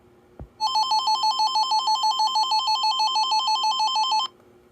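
A loud electronic alert tone sounds alone for a few seconds, a rapid steady warble that cuts in after a soft click and stops abruptly.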